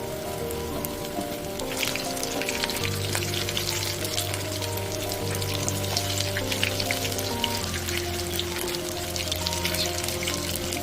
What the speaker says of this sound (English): Then fry them in hot oil. Fry for 1 to 3 minutes in high flame.